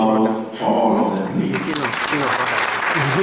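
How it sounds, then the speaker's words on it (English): Lecture audience at a humanitarian public lecture breaks into dense, sustained applause that swells after a moment of speech and continues to the end. "help me put very wonderful rounds of applause for all of them"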